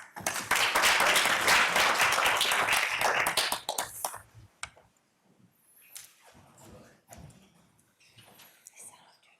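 A board meeting audience gives a round of applause that is loud and sustained for about four seconds, then breaks off into scattered claps and quiet talk.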